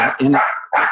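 A dog barks in a home during an online meeting, two close, loud barks separated by a brief pause and heard without talk over them.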